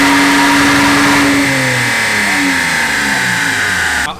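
A BMW 330 ZHP engine revs hard on a dyno, its steady loud drone climbing and holding high through the run before cutting off abruptly at the end, with no talk over it.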